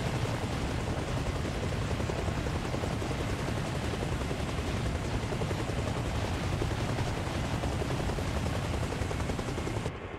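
A helicopter in the video game Arma Reforger keeps up a loud, dense rotor and turbine roar, steady and unbroken for the whole stretch before cutting slightly at the very end.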